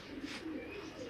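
A racing pigeon coos faintly and softly at close range in a low, throaty murmur, with faint background noise.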